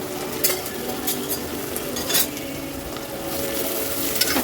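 Onions frying in oil for chicken curry are stirred in a pan, with soft sizzling under repeated scraping strokes and occasional utensil clinks, close up and without speech.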